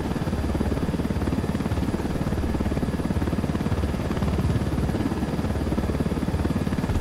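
Helicopter in the video game Ghost Recon Wildlands, a steady, loud rotor thrum with a fast pulsing chop and even engine drone throughout, no talk.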